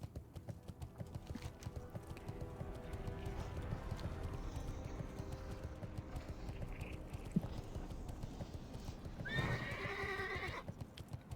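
A horse mount in World of Warcraft Classic trots with a steady clip-clop of hooves, then gives a loud, wavering whinny near the end, with faint keyboard typing in the background.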